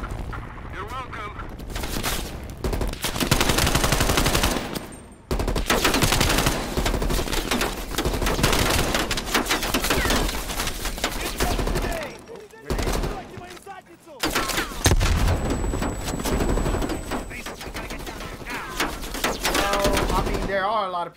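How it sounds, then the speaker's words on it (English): Enemy gunfire rattles in Call of Duty Black Ops Cold War's Echoes of a Cold War mission, dense bursts of automatic shots and booms over long stretches, loud and close, with voices talking under the battle. "People shooting at us."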